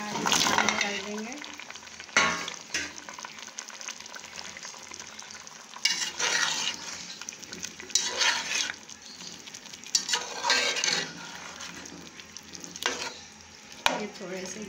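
Potatoes fry with roasted masala in a pan, a steady close sizzle broken by bursts of stirring and scraping, with no talking.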